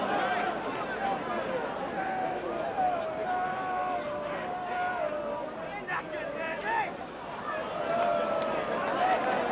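A rugby league crowd at Odsal, Bradford against Widnes in 1989, sends up a steady distant roar and murmur that stays under continuous commentary throughout.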